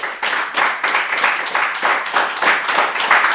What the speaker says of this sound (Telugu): బుద్ధుడికి ఒకసారి గట్టి క్లాప్ చేద్దాం.